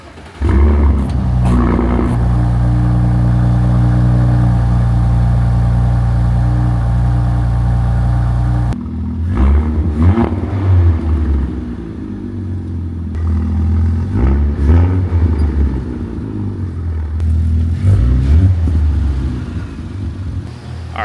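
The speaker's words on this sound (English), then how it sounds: "I'm gonna go ahead and set you guys behind the exhaust and we'll get a semi-cold start." A B9 Audi SQ5 with a front resonator delete starts semi-cold behind the exhaust, firing into a loud, deep rumbling idle that holds steady, then drops and settles into a burbling, fluctuating idle with occasional blips.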